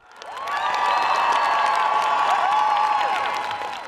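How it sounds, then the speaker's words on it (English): A large crowd rallies in Prague, Czech Republic, in support of Ukraine, a dense roar of cheering, whoops and shouting voices that swells up and holds steady throughout, with clapping mixed into the massed sound. "Look at the crowd in Prague in the Czech Republic."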